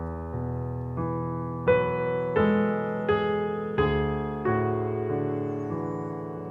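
Piano plays left-hand chords, slow sustained chords struck one after another with each ringing out and gradually decaying, close and alone without speech.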